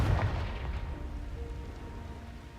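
A Confringo fire spell cast in the video game Hogwarts Legacy lands as a loud, booming blast with low rumble that rolls on steadily without fading, no talk over it.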